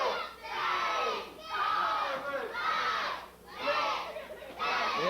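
A large wrestling arena crowd chants in loud rhythmic bursts, as if counting along together, each shout swelling and dropping with brief gaps between.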